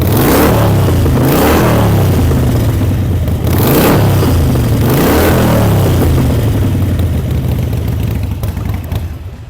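A 2018 Harley-Davidson Iron 883 with Stage 1 tuning revs loudly up close, its engine swelling and dropping in three strong throttle blips before settling toward idle and fading.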